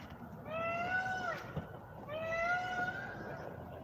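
A wild peacock calls twice outdoors, each a loud, wailing, strongly tonal cry rising in pitch, set against a low background rumble.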